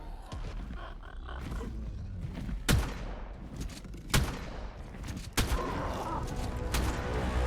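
Shotgun blasts in the ARK video game, three loud sharp reports spaced a couple of seconds apart over a constant rumbling, noisy game backdrop with growls.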